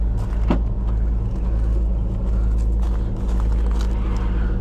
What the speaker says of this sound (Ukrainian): Вихлоп, послухай.